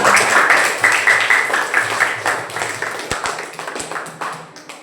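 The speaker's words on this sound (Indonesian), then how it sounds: "Kasih tepuk tangan." A class of students clap their hands together in a loose, uneven burst that fades over several seconds, with a few sharper individual claps near the end.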